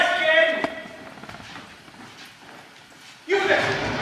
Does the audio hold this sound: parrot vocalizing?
no